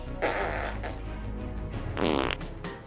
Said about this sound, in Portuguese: Eu vou colocar esse brinquedinho aqui que ele faz barulho de pum.